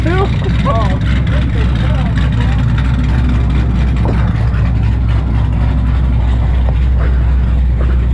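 A 2009 Ford Mustang GT with BBK long tube headers idles and rumbles at close range, a deep steady engine drone with brief rises, while people talk over it.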